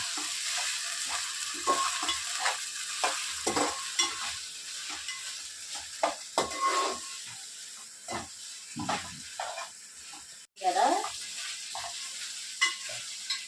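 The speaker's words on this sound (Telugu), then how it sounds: "అల్లం వెల్లుల్లి పేస్ట్లు అన్నీ వేస్తామండి నేతిలో" Ginger garlic paste and spices frying in ghee and a little oil for chicken biryani, a soft sizzle broken by intermittent stirring and scraping strokes, fairly quiet and close, with one sharp clatter near the end.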